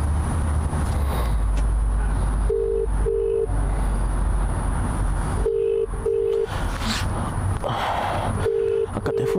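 Telephone ringback tone on an unanswered call, short paired beeps repeating at regular intervals over a loud constant hum.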